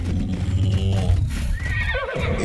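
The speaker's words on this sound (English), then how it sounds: "there's another horse here" A horse in the survival game Ark: The Lost Island gives a loud, drawn-out neigh and whinny over the thud of hooves.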